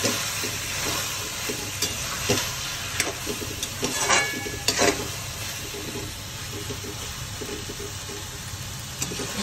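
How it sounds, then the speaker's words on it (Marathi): Mushroom chilli is stir-fried in sauces in a pan, giving a steady close sizzle with scrapes and clicks from a spatula stirring it. "आणि आता आपण एक छान परतून घेऊया।"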